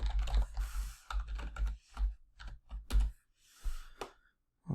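A password is typed on a computer keyboard up close, in quick bursts of clicking keystrokes broken by short pauses, with no talking.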